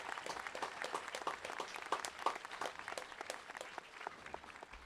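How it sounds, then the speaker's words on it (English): Sustained applause from the crowd at a high school class of 2021 graduation ceremony, steady clapping with scattered louder claps for about five seconds, no talking over it. "They deserve a huge round of applause."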